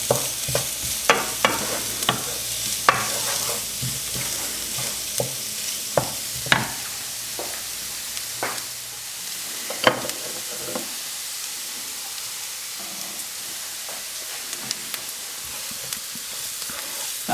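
Bobotie mince is stirred in a hot pan for about a minute, a steady sizzle punctuated by repeated scraping and tapping strokes of the spoon that thin out toward the end.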